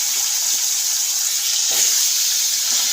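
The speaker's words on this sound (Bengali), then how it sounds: "এই যে আলু, গাজর আর ওলকপি দিয়ে এটাকে একটু ভাজবো" Whole cumin seeds with potato, carrot and kohlrabi fry in hot oil, producing a loud, continuous close-up sizzling hiss with a brief dip partway through.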